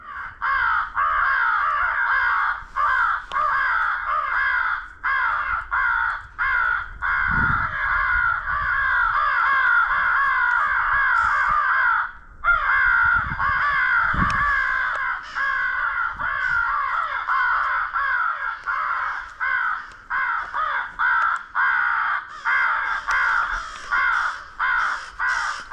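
Crows cawing repeatedly on a spring coastal crow hunt, harsh calls overlapping from several birds at mid distance in a steady chorus, with a few low thumps between them and no talk.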